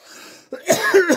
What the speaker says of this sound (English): coughing his way through AM